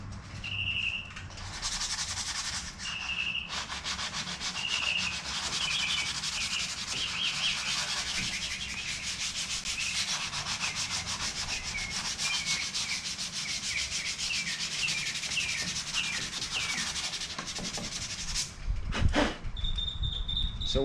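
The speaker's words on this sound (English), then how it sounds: "So when I'm hand sanding, I don't know if you guys notice this, I tend to kind of cross hatch." Steady abrasive rubbing of hand sanding on the body of a Humvee, continuous and close for most of the stretch in a cross-hatch pattern, with a few faint bird calls in the background.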